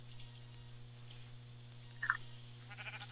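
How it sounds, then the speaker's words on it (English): Sheep in Minecraft give a single short bleat near the middle, faint against a steady low electronic hum, with a soft patter of game sounds toward the end. "Oh sheep! I can kill sheep!"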